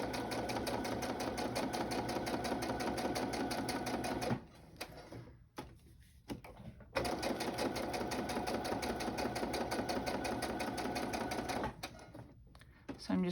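A sewing machine running steady fast stitches over paper book pages, a loud close mechanical whir that stops twice for short pauses before resuming, with a person talking quietly during the breaks.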